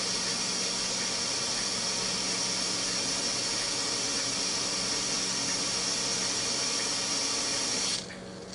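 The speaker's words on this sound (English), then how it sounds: "Making a little bit of noise, a little bit of steam coming out." Steady, loud hiss of steam venting from a Ninja Foodi pressure cooker, continuous and close for about eight seconds before cutting off abruptly near the end; no voices.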